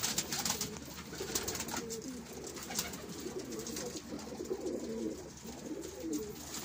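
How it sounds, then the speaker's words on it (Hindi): Breeding pairs of pigeons in a loft coo softly and repeatedly in low, rolling phrases over a steady background of outdoor noise and other bird sounds. "ये कुछ जोड़ों वाले कबूतर हैं"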